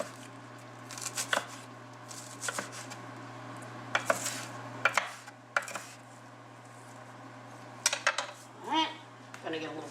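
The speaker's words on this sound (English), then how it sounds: "going to get a little pan here" Metal pans and cutlery clatter and clink in a home kitchen during pierogi cooking. Scattered close knocks and scrapes sound over a steady low hum, with some quiet talk.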